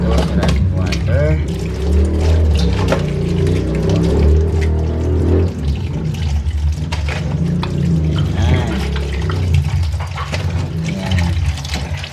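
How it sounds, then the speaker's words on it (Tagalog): Running tap water splashes steadily over eggs being washed in a kitchen, a continuous loud gush with shifting splatter, while a person talks throughout. "Ayan itlog and ayan, hugasan natin ito. Ayan. Hugasan natin ito. Maraming water."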